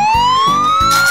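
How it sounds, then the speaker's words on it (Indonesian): A loud wailing fire truck siren sweeps upward in pitch, with a rhythmic low horn-like pulsing beneath it, close and continuous. "Oh, mobil pemadam kebakaran."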